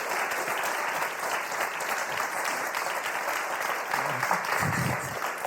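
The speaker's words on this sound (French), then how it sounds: "Applaudissements pour Françoise" A studio audience on the French word game show Motus claps for a contestant, a dense, steady burst of applause lasting several seconds at a constant level.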